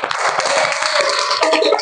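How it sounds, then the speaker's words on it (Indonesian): A classroom of students applauds, with brief, dense clapping that stays steady and close throughout and sounds like many hands at once. "Oke, tepuk tangan untuk semuanya."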